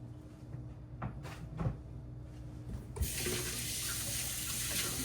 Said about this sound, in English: let's wash our salmon.